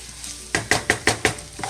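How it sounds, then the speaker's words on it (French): A spoon scrapes through buttered pasta in a frying pan, stirring in five or six even strokes over a soft sizzle. The stirring is close and fairly loud, with quieter pan noise before it starts. "Je mélange le tout pour que le beurre pénètre bien dans les pâtes"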